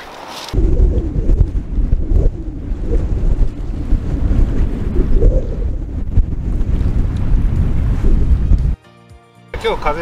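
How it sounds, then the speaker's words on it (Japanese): Strong wind on a boat at sea off the Pacific coast of Shikoku during a coral survey, roaring loudly and continuously into the microphone with buffeting gusts, then cutting off abruptly near the end. "今日風が強かったんですけど"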